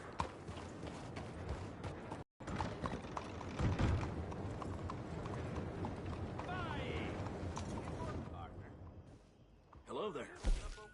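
Hooves clip-clop at a walking rhythm from a horse in Red Dead Redemption 2, close and moderately loud against game ambience, with a brief dropout partway through and voices talking near the end.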